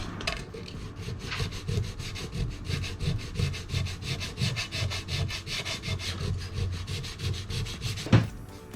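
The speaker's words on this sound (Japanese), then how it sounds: "パテが硬化しましたのでサンディングをしていきます" Sandpaper rubbed back and forth over hardened putty on a wood-grain painted surface, a steady rasping stroke rhythm up close with one sharper knock near the end.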